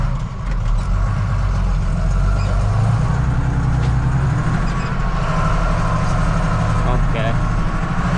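A tractor engine drones steadily and loudly while pulling a lowered cultivator across a field, with someone talking over the continuous low rumble throughout.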